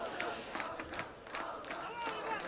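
A live esports crowd at a Counter-Strike match on Dust2 roars and cheers in a steady, distant wash of voices, with scattered shouts rising from the arena noise.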